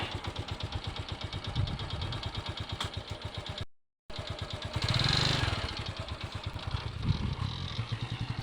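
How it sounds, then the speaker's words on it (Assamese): A motorcycle is ridden on an outing, its engine running steadily with a rhythmic mid-pitched putter and a short rev swell partway through. A brief cut in the sound interrupts the ride, and no one talks over it. "মই হেনো বাইক চলাব পাৰোঁ নে নোৱাৰোঁ, তাকে অলপমান দেখুৱাই দিওঁ"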